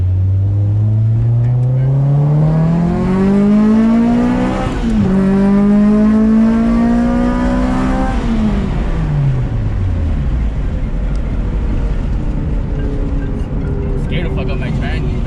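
A K24-swapped 1999 Honda Civic four-door accelerates hard through two gears, its engine note climbing steadily with a brief dip at the shift, then easing off into a lower drone as the car coasts, loud and close.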